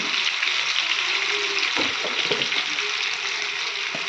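Boiled potatoes tipped into a frying pan with tomato and stirred, giving a steady sizzle broken by a few soft thuds and scrapes as they land and are turned.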